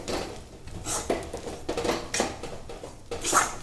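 Coarsely ground roasted peanuts stirred in a bowl, giving soft scraping, clinks and rustles that come in uneven bursts, close and moderately quiet.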